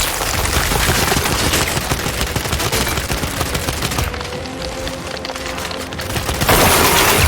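Rapid automatic gunfire and bursts in the video game Gears 5, loud and nearly continuous with dense overlapping shots, easing briefly before surging again at the end.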